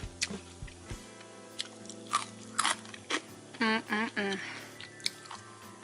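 Crispy pan-fried tofu bitten and chewed close to the microphone, a few sharp crunchy bites followed by wet squishy chewing, with a short vocal sound mid-way.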